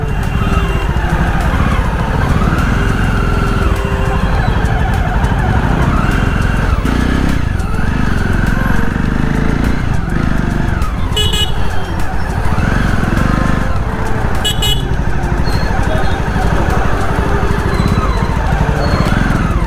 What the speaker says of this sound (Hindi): ट्रैफिक जाम शुरू हो गया भाई।